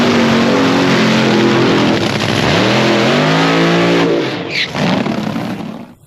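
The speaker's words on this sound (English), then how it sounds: "Clay Milliken driving the Rick Ware-owned machine for the folks at Parts Plus, Summit Racing Equipment" A Ford NASCAR race car, the Rick Ware-owned machine, roars loudly at close range with a sustained engine note that sweeps down in pitch and back up, then fades as it pulls away.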